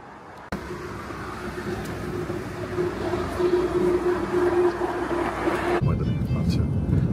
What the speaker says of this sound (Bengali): পরীক্ষামূলক চলছে এই ট্রেনটা।